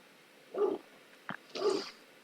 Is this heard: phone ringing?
no